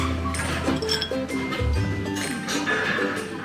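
Glasses clink a few times in a dinner toast at a restaurant on Amami Oshima, Japan, light bright taps heard close over soft background chatter and murmur.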